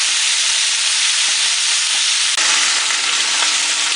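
Seasoned pork chops brown in a hot frying pan with a loud, dense, continuous sizzle close up, shifting slightly midway as the pan is stirred or moved.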